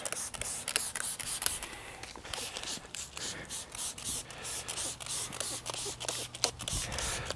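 Soft bursts of a detail spray product misting onto a car door, quiet repeated short hisses at an irregular rhythm, close up, with faint background noise and no voices.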